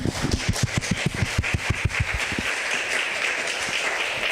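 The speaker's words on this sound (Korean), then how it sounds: "우리 하나님 앞에 우리 감사의 박수 한번 올려드릴까요?" A church congregation in Edison, New Jersey applauds during a service, the clapping mixed with low rumbling tones for the first couple of seconds before settling into a steady, moderately loud wash of applause.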